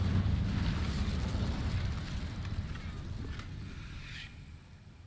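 Incendio fire spell cast in the Hogwarts Legacy video game, a whooshing burst of flame that fades over a few seconds, with faint crackles near the end.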